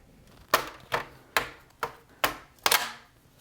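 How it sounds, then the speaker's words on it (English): A tool pops open the back cover of an MSI GE76 Raider laptop: six sharp plastic clicks and snaps at roughly even intervals, close and crisp, each with a brief decay, the last a quick double snap. "And now just get a tool and to pop open the back cover."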